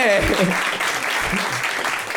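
An audience bursts into applause at a live French-language show, a brief, dense patter of clapping mixed with voices from the crowd.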